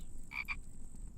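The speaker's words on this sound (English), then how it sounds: "And frogs." A single short double-pulsed frog croak from the survival game The Infected, close and clear over a low ambient hum.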